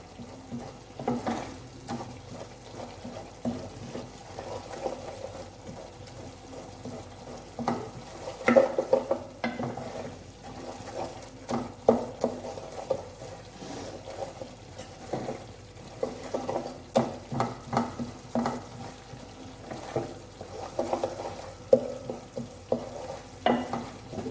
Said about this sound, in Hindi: तो कोशिश करें कि चमचे की मदद से उसको मैश कर लें।